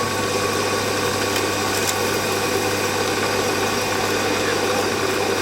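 A metal lathe runs with a loud, steady motor drone and a low, even hum that holds without change throughout.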